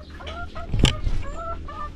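Five-month-old chickens fed layer feed cluck repeatedly at close range, with short overlapping calls and a louder squawk near the middle, and no talking.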